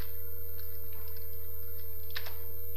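Typing C code on a computer keyboard, a run of quick light key clicks with a few louder taps, over a constant electrical hum, no talking.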